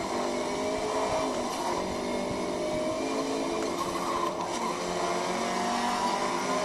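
Race car lapping a track in Forza Motorsport, a steady engine whine rising and falling through gear shifts with occasional tire noise, moderately loud and continuous.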